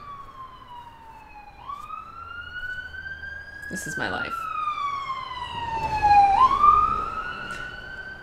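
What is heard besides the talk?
siren passing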